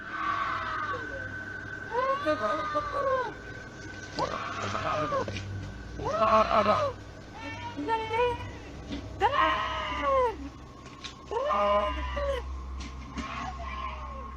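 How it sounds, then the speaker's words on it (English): A voice screams and cries out for help again and again in long, strained, wavering calls, a few seconds apart, heard at a distance over steady background noise. "You can hear a woman scream."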